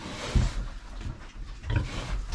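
A sow grunting close by on straw and hay bedding, several low rough grunts spread across the clip amid rustling.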